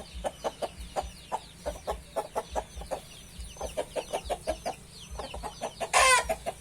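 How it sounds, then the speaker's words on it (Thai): A rooster and chicks in a backyard coop: steady, evenly spaced clucks repeat close by over a soft background, with a brief louder squawk near the end. "ผมว่าทำไมเอาไก่ตัวผู้มาเลี้ยงลูก"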